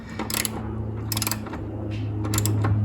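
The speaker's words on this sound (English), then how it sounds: "Just put our new lock nuts in there, get them tightened down." Ratchet tightening new lock nuts on a BMW Z4 shock install, with three quick bursts of sharp metallic clicking over a steady low hum, close and loud, with no talk.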